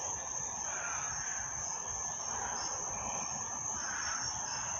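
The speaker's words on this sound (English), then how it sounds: "I'm not talking about all the cicadas and crickets and stuff like that." Crickets and cicadas chirp in a dense, steady, high-pitched chorus that runs unbroken and evenly loud throughout, with no voices over it.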